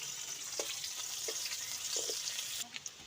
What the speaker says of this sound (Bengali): এবার কড়াইতে তেল দেবো আর কালো জিরে দেবো।